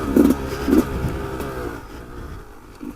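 A 2019 Beta 200RR two-stroke dirt bike pulls uphill in second gear, its engine revving in short bursts up close, then settling to a lower, steadier drone.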